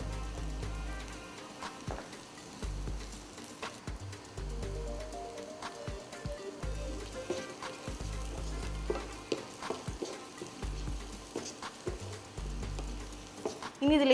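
Garlic and shallots frying in oil with chili flakes and oregano, a soft crackling sizzle with intermittent low thumps and spoon clinks, fairly quiet and close.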